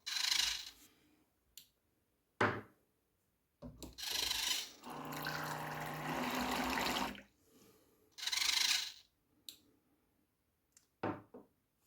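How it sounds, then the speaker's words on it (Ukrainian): A four-shot alcohol dispenser pours liquor into shot glasses in several separate bursts of trickling, splashing liquid, each lasting a second or a few, with brief quiet gaps between them and no talking. "Тепер, коли ви ставите чарку, він одразу наливає."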